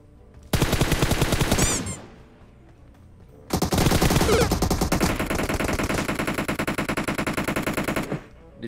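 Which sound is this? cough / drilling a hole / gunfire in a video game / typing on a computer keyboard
gunfire in a video game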